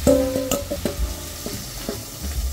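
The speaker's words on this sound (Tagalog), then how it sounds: "Ipapanser lang natin yung minarinate nating baka. Prituin lang natin ang magkabilang side hanggang sa magkaroon ng browning" Marinated beef frying in hot oil in a pan, a close, steady sizzle broken by a few sharp clicks and scrapes of a utensil against the pan.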